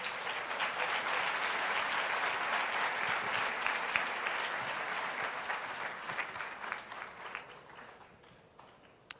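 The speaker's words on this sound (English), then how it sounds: "a great big round of applause" Volunteers and friends in a panel-session room give a big round of applause, a thick sustained clapping that gradually thins into scattered individual claps as it dies away.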